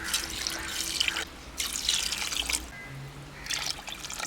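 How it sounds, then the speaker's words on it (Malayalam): Three cups of water pour into a pot of mutton pulao in bursts of splashing trickle, three separate pours with short gaps between them, fairly quiet and with no voices. "ഒരു മൂന്ന് കപ്പ് വെള്ളം ഒഴിച്ച് കൊടുക്കുക"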